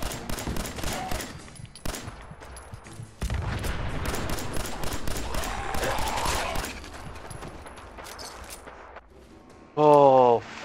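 Gunfire and explosions in the video game Fallout 4, with rapid bursts of shots and heavy booming blasts layered densely for several seconds, loud and chaotic.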